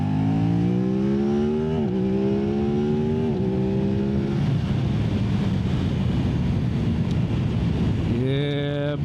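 An Aprilia RS660 motorcycle fitted with a MIVV Delta Race exhaust revs hard, its engine note climbing in several stepped pulls. Wind rush then takes over before another rising rev near the end.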